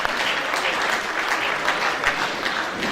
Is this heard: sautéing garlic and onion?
no